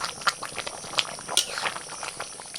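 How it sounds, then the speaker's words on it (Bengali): Chicken and potatoes simmering in water in a pot for a spiced chicken dish, a steady close bubbling with irregular soft pops and gurgles, moderately loud, no talking. "চিকেন আর আলু বেশ কিছুক্ষণ কষিয়ে নিয়েছি, এবার দিয়ে দিচ্ছি জল।"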